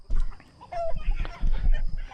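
Freedom Ranger chickens about 11 weeks old clucking on a farm, several birds close by giving short overlapping clucks and squawks in bursts, loud and busy.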